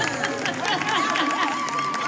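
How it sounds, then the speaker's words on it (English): Audience at a live morning show claps and cheers for a guest's parents, a busy mix of clapping, whoops and crowd chatter close by, with bright electronic tones running through it. "let's give him a round of applause"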